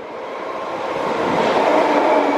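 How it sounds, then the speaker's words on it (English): A train ride heard from inside a carriage: a steady, loud rumble and rushing roar that builds gradually as the train gathers speed, with no talking. "Getting on a train."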